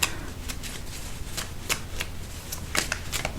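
An oracle card deck is shuffled by hand, producing a close, clear run of quick riffling and slapping card sounds in irregular bursts, without any talking.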